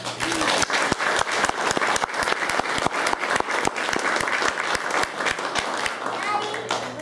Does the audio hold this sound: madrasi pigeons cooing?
no